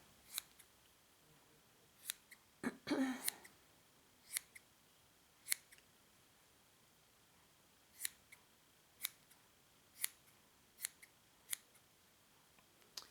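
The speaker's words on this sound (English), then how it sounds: "Just start trimming it, giving it a haircut until you have the shape that you like." Scissors trimming a fluffy fur pom-pom, a series of sharp, separate snips spaced a second or two apart, close and quiet against a faint hiss, with one longer rustle of fur being handled early on.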